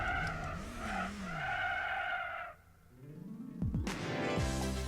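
A Gran Turismo 4 race car brakes hard, its engine whining high before cutting out, then a loud screeching tire skid with rough scraping noise, under sporadic speech.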